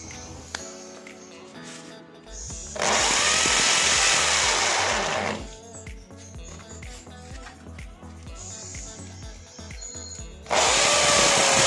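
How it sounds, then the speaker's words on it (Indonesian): A DCA AZJ16 impact drill grinds loudly into a paving block, drilling vertically, in two long bursts, with a quieter stretch of background noise between them. "Kita akan mengebor secara vertikal."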